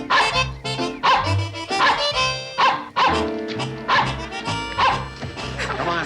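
A dog yips and barks repeatedly in rhythmic bursts on a vintage 1960s rural sitcom soundtrack, loud and close, mixed with other sounds.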